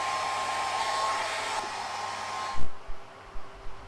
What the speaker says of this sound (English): you've got to use a hairdryer to heat them up and make sure the glue sticks.